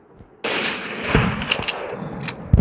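Gunfire in the Free Fire mobile game, a loud burst of rapid shots starting abruptly and continuing as a dense rattle with a few sharper bangs near the end, no voices.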